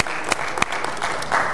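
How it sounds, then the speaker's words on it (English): Seminar audience applauding, a steady dense wash of clapping filling the short moment without speech. "I want to give him a round of applause for putting this together."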